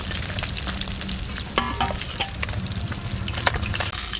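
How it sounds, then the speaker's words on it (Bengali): Rui fish frying in a pan with mustard and poppy seed paste, giving a steady close sizzle with a few scraping stirs and small pops, and no voices. "হালকা করে ভেজে নিচ্ছি"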